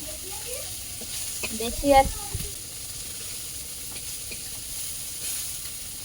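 Puti fish sizzles steadily in a hot pan, a constant frying hiss with a brief louder stir-like clatter near the middle, while a voice speaks faintly over it.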